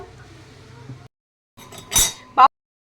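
Pumpkin and hilsa fish curry is served from a cooking pot: a few bright metallic clinks and scrapes of a utensil against the pot after a quiet stretch of low kitchen noise.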